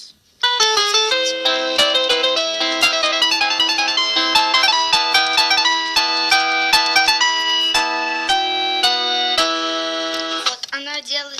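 A small home synthesizer plays a soft, bell-like electronic melody with steady chiming notes for several seconds, then stops as a voice begins.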